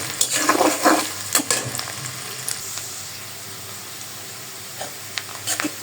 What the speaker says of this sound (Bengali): পেঁয়াজটা এখন ভালোভাবে ভাজা ভাজা করব।